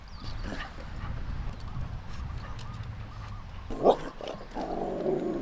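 Dogs out on a countryside nature walk, one brief nearby bark followed by whimpering and whining over wind and outdoor rustle.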